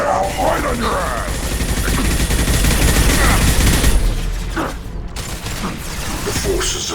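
Rapid gunfire in Mass Effect 2 crackles through a dense, continuous barrage of shots and impacts, loud and close, mixed with a voice talking over the combat.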